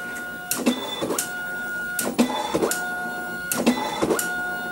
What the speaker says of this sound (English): now we're printing again